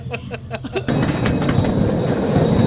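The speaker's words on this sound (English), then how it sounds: "Directly in front of us is the Aero Train" The Aero Train rumbles loudly on the rails with a steady rushing roar, preceded by a brief rhythmic clacking, in St. Louis, Missouri.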